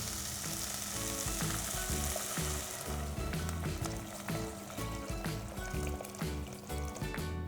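Plenty of water goes into a hot pan while Maggi noodles are being made, bringing a loud, steady sizzle and hiss that runs throughout the clip over a constant low musical backing.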